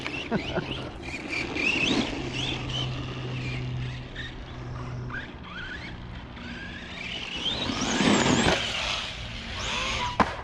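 An Arrma Vorteks 4x4 3S BLX brushless RC car whines through its first run outdoors, its electric motor rising and falling in pitch with bursts of acceleration and a louder surge near the end, with no talking.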